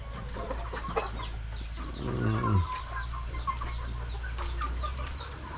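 Several chickens cluck and murmur close by, with a steady low hum in the background.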